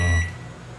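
Microwave oven beeping as cooking finishes while steaming squid with ginger: one short loud electronic beep that cuts off quickly, followed by quiet room tone.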